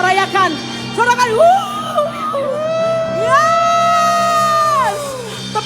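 A church congregation at a Christmas service in Denpasar, Bali, cheering and shouting together, a swelling crowd roar with high voices rising and sustaining for several seconds.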